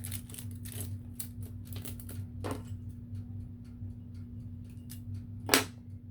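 Plastic wrap and tape are peeled in short crackling pulls off a baby bottle being prepared for sublimation, a run of brisk ripping bursts over a steady low hum, with one sharper tear near the end.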